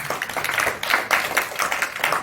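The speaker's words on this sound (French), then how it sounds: "on l'excuse, mais on l'applaudit quand même" Audience at a short-film festival clapping for an absent guest, a dense close patter of many hands with slight rhythmic swells, brief and fairly loud.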